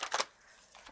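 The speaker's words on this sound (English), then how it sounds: "Let me shuffle this Nightmare Before Christmas deck up." Nightmare Before Christmas tarot cards riffle in a quick, close flurry of crisp shuffling bursts at the start, then fade to near silence with a faint soft rustle near the end.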